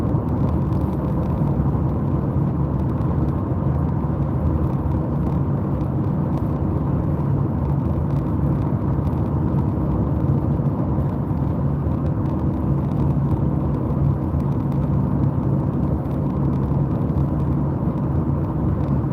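Steady, loud road rumble of a car cruising along a highway on the last leg of a four-day drive, a continuous low engine and tire drone with no talk.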